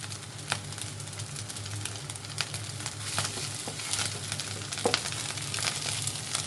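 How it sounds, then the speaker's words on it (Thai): Pork stir-frying in a pan for seafood fried rice, a steady close sizzle with scattered clicks and scrapes from stirring and no talking. "เอาหมูมาผัดลูก"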